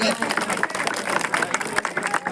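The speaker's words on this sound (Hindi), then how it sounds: "जोरदार तालियों से स्वागत" A crowd at an evening village gathering claps in welcome, a dense patter of hands going on throughout with voices talking over it.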